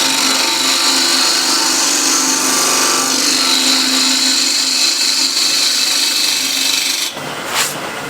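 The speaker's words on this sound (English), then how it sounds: "Now I'm going to use a spindle gouge to get the foot" A spindle gouge cuts into the foot of a wooden bowl spinning on a lathe, making a loud, steady scraping hiss that runs almost without a break, then shifts briefly near the end.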